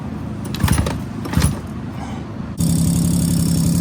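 A 1984 Suzuki LT50 fitted with a new ignition coil gives a few rattling cranking bursts, then catches at about two and a half seconds and settles into a steady, close idle.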